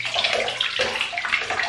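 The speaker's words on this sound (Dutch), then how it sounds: "Dus ik ga snel Marley even in bad doen." Water splashes and sloshes steadily in a bathtub as a dog gets a bath to rinse salt water and sand from its coat, with continuous close-up washing and rinsing sounds and no talk.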